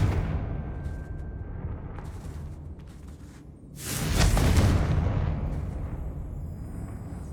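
Confringo fire-blast spell in the Hogwarts Legacy video game, a rising whoosh that bursts into a loud, broad explosion midway, then a rumbling decay over lingering low ambience.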